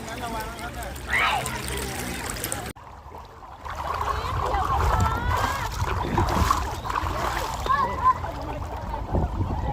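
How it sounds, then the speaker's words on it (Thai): Strong water rushes over rocks in a waterfall stream at Khao Nang Buat, Nakhon Nayok, a loud, steady broadband roar close by with splashes. Someone talks over it, and the sound briefly cuts out partway through. "ไหลแรงอยู่นะเนี่ยให้ดูน้ำ ดูน้ำแรงครับน้ำเยอะครับ"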